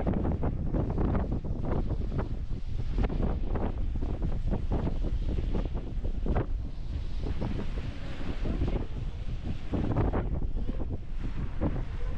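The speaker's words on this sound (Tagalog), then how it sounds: "Grabe, sobrang lakas ng hangin." Strong coastal wind buffets the microphone in loud, continuous gusts, with surf rumbling underneath throughout, on the coast near Albany, Western Australia.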